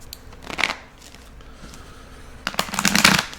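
Two quick bursts of cards being riffle-shuffled close by, a short flutter then a longer one after a pause.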